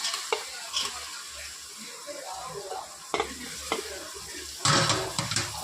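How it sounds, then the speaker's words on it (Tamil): Onions frying in a pan for chicken biryani give a quiet ongoing sizzle, broken by several scraping stirs and a louder burst of hissing near the end. "இப்போ வந்து வெங்காயம் போட்டுக்கலாம்."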